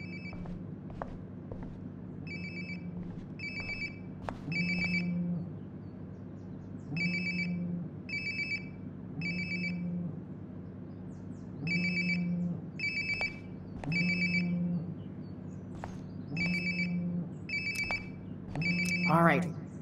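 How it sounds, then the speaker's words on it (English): A mobile phone rings nearby in the video game Life is Strange: Before the Storm, its electronic ringtone repeating in regular bursts for about twenty seconds over a low background hum. "Sounds like my phone is definitely nearby."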